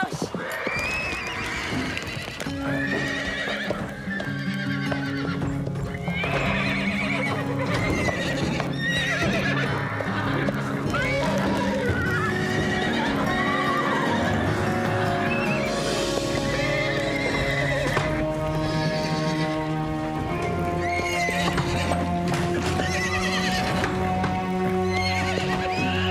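Horses whinny and neigh while hooves clip-clop steadily, loud and close, layered with background music and a busy mix of other sounds.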